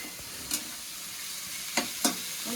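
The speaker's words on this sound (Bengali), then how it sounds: "আলু কেটে আলু ভাজা বসিয়ে দিয়েছি" Low, steady background hiss with a few brief scraping clinks as potatoes are stirred while frying quietly in a pan.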